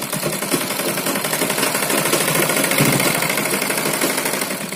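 A sewing machine stitching elastic onto a lehenga runs steadily: a loud, continuous, fast mechanical rattle and hum fills the whole stretch, with no voices over it.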